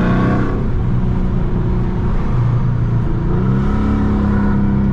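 A 2019 Dodge Charger RT Widebody engine roars loudly and continuously from inside the car, its pitch rising and falling with the revs as it downshifts.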